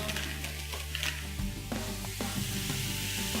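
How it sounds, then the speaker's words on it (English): Mushrooms sautéing in olive oil with cracked black pepper and salt in a pan, a steady close sizzle with occasional clinks and stirring scrapes, no speech. "olive oil for those mushrooms there, just to sweat them down"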